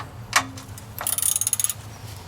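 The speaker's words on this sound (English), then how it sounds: "wrench there, and we'll pull off the oil bolt there. Okay, so our biggest 17 mm." A 17 mm wrench loosens the oil drain bolt on a Deere 110 backhoe, giving a sharp metallic clank followed by a quick run of ratcheting clicks. The sound is close and moderately loud over a low engine-bay hum, with no talking.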